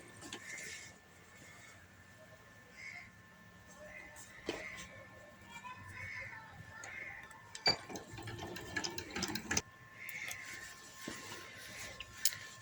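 A sewing machine stitches a palazzo pant seam in short intermittent runs with clicks and mechanical ticks between them, fairly quiet, with someone speaking softly at times.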